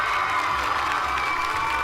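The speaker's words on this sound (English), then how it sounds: "Oh, there to applaud and cheer." A studio audience applauds and cheers for a show guest, a dense, steady wash of clapping with whoops and shouts that stays loud throughout, with no one speaking over it.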